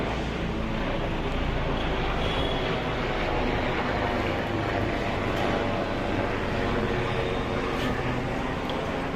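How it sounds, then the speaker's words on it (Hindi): A steady, broad mechanical roar of an overhead helicopter holds for several seconds, fairly loud and unbroken. "वो देखो हेलीकॉप्टर जा रहा है।"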